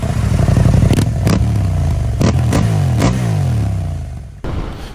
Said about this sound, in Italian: E questo è il sound con lo scarico Remus.